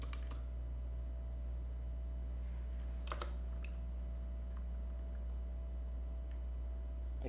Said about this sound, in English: Because I'm just gonna type the same thing.